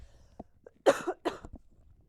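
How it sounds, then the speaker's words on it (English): Two rough coughs close to the microphone, one after the other, in an otherwise quiet room. "hold on, cough break."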